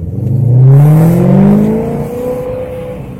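Car engine revving alone, a loud close rising and falling roar as the throttle is tested, with reduced throttle response and heavy smoke.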